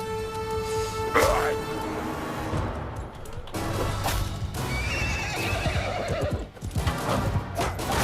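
Horses in the video game Mount and Blade II: Bannerlord neigh loudly amid battle, one clear whinny standing out over steady hoofbeats and clatter, with a voice talking over it.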